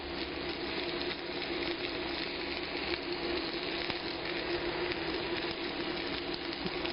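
Mushrooms sizzle on a grill beside sirloin steak, giving a steady, even hiss of frying that holds at moderate loudness without pause and with no talking.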